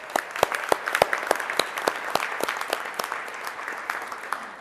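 A dinner crowd at a neighborhood partnership's annual banquet claps steadily for several seconds, a dense, even round of applause with no talking over it.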